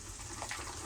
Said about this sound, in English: Need to put a bit more hot water in.